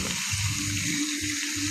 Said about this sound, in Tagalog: Lagyan pa kunting tubig pala mamaya para malambot yung karne.